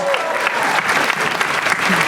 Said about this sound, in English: Let's give these three a big round of applause, ladies and gentlemen.